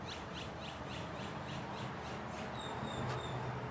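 A duck calling at Echo Park lake: a quick, evenly spaced run of nasal calls over a constant outdoor hiss, fairly faint and slightly distant.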